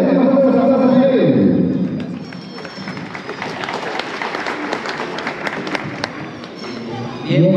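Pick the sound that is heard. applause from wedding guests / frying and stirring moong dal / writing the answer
applause from wedding guests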